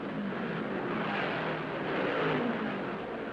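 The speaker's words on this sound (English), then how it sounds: "The winning car comes into victory lane." The 1966 Indianapolis 500 winning race car, driven by Graham Hill, rolls into victory lane amid a steady, dense roar of engine and crowd noise that swells slightly near the end.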